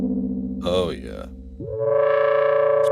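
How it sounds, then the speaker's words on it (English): Synthesizer tones from an ARP synth, a 2500 or 2600, run through spring reverb, giving a swept, wobbling tone that settles into a loud sustained drone with a splashy, metallic tail. "Spring reverb."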